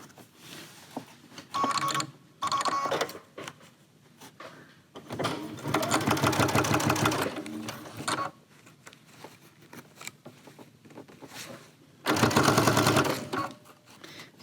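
A domestic sewing machine stitches a seam along the zipper of a clamshell zip pouch, running in several steady whirring bursts of a few seconds each with quieter gaps between, close and prominent.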